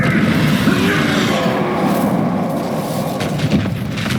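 Bombarda spell blast in the video game Hogwarts Legacy during a final quest battle, a dense booming explosion rumble that rolls on continuously and fades slightly at the end.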